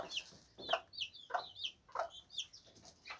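Antwerp bearded chickens clucking in short, repeated bursts, several calls overlapping at a moderate distance, with quiet gaps between them and no talking.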